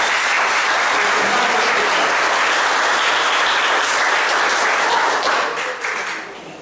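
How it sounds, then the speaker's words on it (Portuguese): Loud, dense applause from the audience for the city councillors of the Mirim municipal chamber at a council session electing its board, sustained and even before tapering off at the very end. "eu pediria uma salva de palmas"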